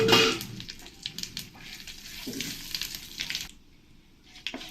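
Black cumin, dried chilli and bay leaf fry in hot oil with a bright, crackling sizzle and bursts of spitting pops. The frying starts loud, then thins and quietens toward the end, with no talking.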